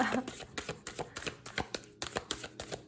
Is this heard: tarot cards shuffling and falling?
yes